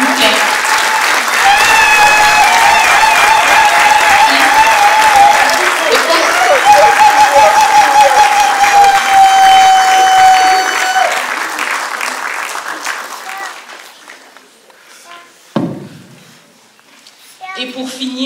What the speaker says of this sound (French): Il mérite vraiment des acclamations, s'il vous plaît.